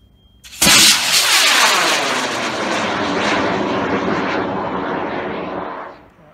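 A K490G motor ignites a high-power model rocket at a competition launch. The roar comes on suddenly, loud and close, then stays as a sustained thunderous rumble that fades as the rocket climbs away.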